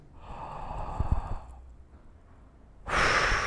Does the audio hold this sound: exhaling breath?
yes